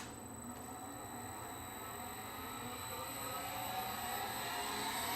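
A horizontal drilling machine in a community woodworking shop runs with a continuous, fairly loud whirring hum that builds slightly in strength and holds steady, with no voices over it.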